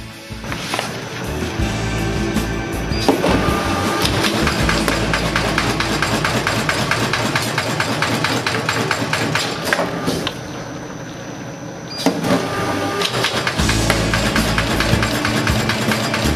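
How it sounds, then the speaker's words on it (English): Book sewing machine with a Seco heavy-duty lock stitch head runs steadily, a continuous dense mechanical clatter with rapid rhythmic ticking, briefly dipping and then resuming at full level. "For the sewing head, we use a Seco heavy-duty lock stitch unit."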